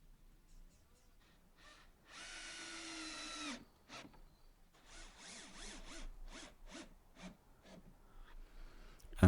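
Pallet wood panels of a rustic storage box being screwed together with a power drill: a sustained whirring burst, then several shorter bursts and clicks of handling, close and fairly loud, with no talk.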